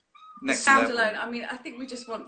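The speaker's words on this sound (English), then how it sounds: "Speaking of noises, that's our cat in the background." A cat meows in the background, with a thin high call at the start, while people talk loudly and continuously over it.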